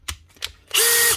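Makita DDF083 cordless hex driver whirs up loud and steady for a short burst at close range, following a couple of faint handling clicks.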